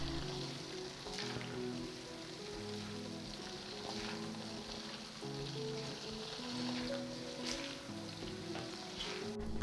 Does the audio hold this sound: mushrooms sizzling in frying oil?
yes